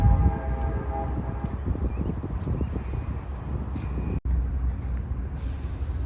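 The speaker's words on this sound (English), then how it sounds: "I'm hearing a train coming." A train draws near a rural railroad crossing as a distant rumble that builds steadily, with a horn-like tone over steady outdoor background noise and a brief dropout near the end.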